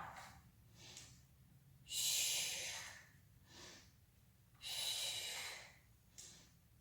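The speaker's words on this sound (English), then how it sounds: "Breathe in to open, exhale to come down." Deep breaths during a power yoga session, with two long, loud exhalations and softer inhales between them, close and rhythmic with no talking.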